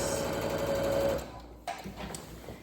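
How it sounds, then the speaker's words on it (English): A sewing machine runs with a fast, steady mechanical rattle as the needle punches through many layers of fleece, then stops, followed by a few light clicks. "That's just the sound of the needle punching through all the fabric."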